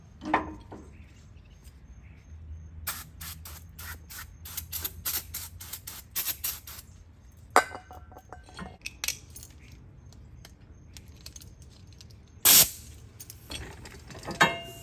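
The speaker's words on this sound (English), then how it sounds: "Spray me a little brake cleaner on this thing" Brief bursts of close aerosol spray hiss among metallic clinks and rattles of tools, with one louder, longer spray blast near the end.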